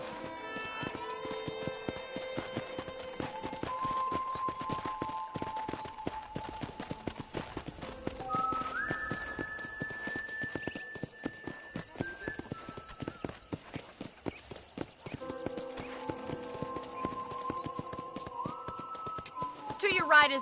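Horse hooves clip-clop steadily on a ranch in the Red Dead Redemption video game, a continuous walking rhythm heard under intermittent background tones and music, at moderate volume throughout.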